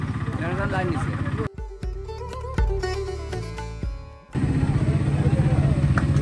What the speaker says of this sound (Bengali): পাশে জেনারেটর চলছে